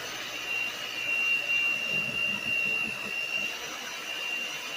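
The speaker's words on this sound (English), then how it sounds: "mix these ingredients together really, really well using your hand mixer" A hand mixer blends keto cake ingredients with a steady motor whine under a faint high-pitched hum, the sound swelling and easing slightly as the beaters move through the mix, close and continuous.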